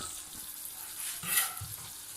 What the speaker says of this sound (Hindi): इसको भी थोड़ा सा इसके साथ हम भून लेंगे। ताकि इसका फ्लेवर इसमें अच्छे से आ जाए।